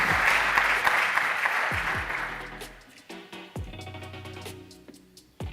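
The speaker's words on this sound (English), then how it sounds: "congratulations and big applause to MediHub" An audience at a European big data plenary session in Valencia gives a round of applause, steady clapping that thins out into scattered individual claps and a few late hand claps near the end.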